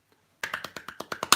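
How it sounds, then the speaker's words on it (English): Hand-percussion flipper clap: after a short silence, about nine crisp, close slaps in a quick, fairly even rhythm, the last one loudest. "So let me show you the flipper clap."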